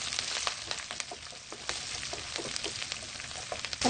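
Green chilies dropped into hot ghee with golden onions sizzle and spit in a pan, a steady close crackle dotted with sharp pops, fairly quiet and free of speech.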